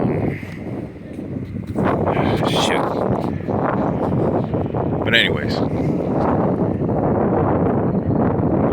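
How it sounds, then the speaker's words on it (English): Steady outdoor wind by the sea at Coney Island buffeting the microphone, a continuous loud rumble with someone talking over it throughout. "It's getting windy. I hope you'll be able to hear me."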